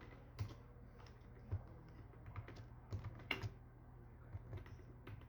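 Python code typed on a computer keyboard: faint, irregular key clicks with a few sharper taps, close by and without speech, over a quiet steady hum.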